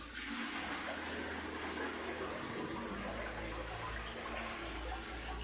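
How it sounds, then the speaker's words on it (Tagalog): A steady, loud rush of water poured from a bucket swirling into a newly installed toilet bowl, continuous throughout with no voices. "gagawin natin ay bubuhusan natin ng tubig"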